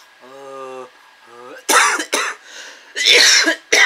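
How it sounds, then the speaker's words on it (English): A voice speaks briefly, then several harsh, close coughs follow in two clusters, loud and raspy. "Now I'm getting the what call cough."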